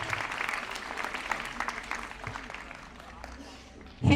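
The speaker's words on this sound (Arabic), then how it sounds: "تصفيق أعلى" A school ceremony crowd in Yalova claps for honoured students, a busy wash of overlapping applause that gradually thins out before a sudden loud thump at the very end.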